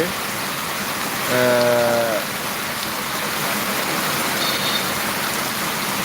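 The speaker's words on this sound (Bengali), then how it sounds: "চারিদিকে শুধু বৃষ্টি আর বৃষ্টি দেখেন এত পরিমাণে বৃষ্টি হচ্ছে" Heavy rain pours steadily outdoors as a dense, constant hiss, with a brief tonal sound rising over the downpour midway.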